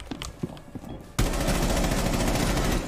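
Rapid automatic gunfire from a gun in the video game Rainbow Six Siege erupts suddenly and continues loud and sustained, following a quieter stretch with scattered game noises.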